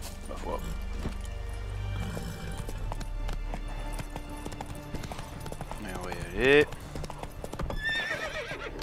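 A horse in The Witcher 3 video game clip-clops along, then gives a loud, close whinny near the end, while someone speaks French over the hoofbeats and game sounds.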